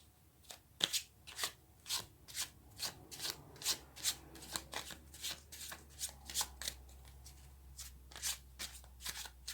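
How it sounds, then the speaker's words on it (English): A deck of tarot cards being shuffled by hand, giving a steady run of crisp riffling bursts that repeat quickly and close up against a quiet background for the whole stretch. "Let's clarify this card and see what we get."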